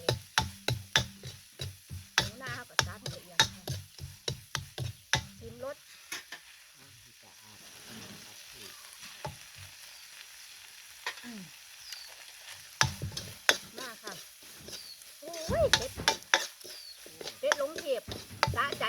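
Field rat meat stir-fried dry in a pan for a spicy Thai-Isan dish, with rhythmic scraping and clattering of the spatula over a sizzle, pausing midway and then resuming with louder tossing, and a voice speaking at times.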